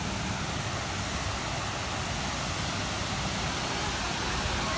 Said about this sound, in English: Those waves are huge for a pool.